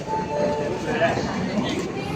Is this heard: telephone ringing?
no